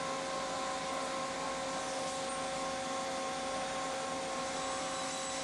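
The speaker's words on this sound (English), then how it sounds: "So this is the CNC router." A CNC router machine runs with a steady, continuous mechanical whine and hum, a constant drone with several sustained tones and no change in level throughout.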